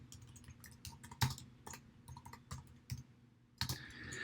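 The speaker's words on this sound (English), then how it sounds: "I'm just going to type in account titles" Keys clack on a computer keyboard while text goes into an Excel spreadsheet, irregular quiet taps in short bursts with a few sharper strokes, close and alone.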